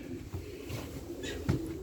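Domestic racing pigeons coo softly at their loft in Poland, low gurgling calls repeated a few times, faint and fairly close, with some background rustle.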